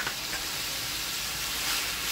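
Mutton and vegetables frying on a high flame for mutton chilli, a dense, continuous close-up sizzle and hiss that stays loud and even throughout, with no voices.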